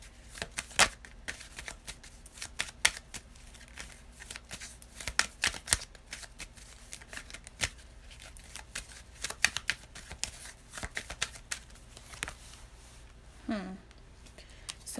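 Tarot cards shuffled and riffled over fifteen seconds of close, quiet handling, with a steady run of sharp flicks and snaps and a few louder slaps as cards spill out.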